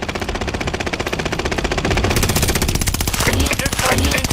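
Sustained rapid automatic gunfire from a video game hammers steadily and loud at close range, an unbroken rattling stream that grows denser midway, with voices faintly under it.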